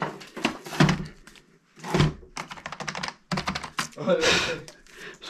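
Keys clatter in rapid bursts of typing on a computer keyboard, broken by short pauses and a few heavier thunks, close to the listener.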